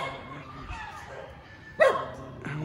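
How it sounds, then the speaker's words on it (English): A single dog bark bursts out over a quiet outdoor village background on a rooster farm in Rizal, Philippines, with a fainter second yelp following shortly after. "Couple of dogs. There's one dog right here anyway."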